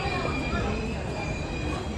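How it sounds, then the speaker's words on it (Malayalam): The Karaikal Express train rumbles past nearby in a steady, loud roll of wheels on track with a high metallic squeal running throughout. "ഇതാ കേട്ടോ ട്രെയിൻ, ഇവിടെ കാരക്കൽ എക്സ്പ്രസ്."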